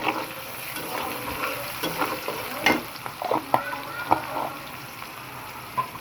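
Whole cumin seeds crackle and sizzle in hot oil in a pan along with onions and green chillies, a busy close frying hiss broken by small pops and stirring clatter.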